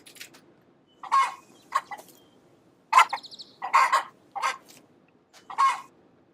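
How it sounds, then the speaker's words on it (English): Chicken clucks and squawks from a creature in its pen in the Hytale video game, about seven distinct bursts spaced irregularly, close and clear against silence. "a chicken running around in its pen"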